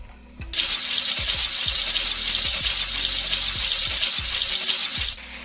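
Onion and pepper sizzling loudly in a frying pan alongside souvlaki meat, a dense, steady hiss that starts abruptly and holds evenly before cutting off near the end, with soft clinks underneath.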